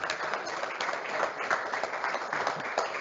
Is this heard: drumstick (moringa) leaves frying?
no